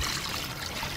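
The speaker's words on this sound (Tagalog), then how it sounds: "Lagyan natin ang konting tubig." A little water is poured, a brief steady trickling splash heard close and alone.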